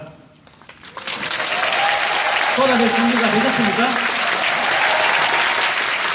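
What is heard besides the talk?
crowd cheering and applause at rally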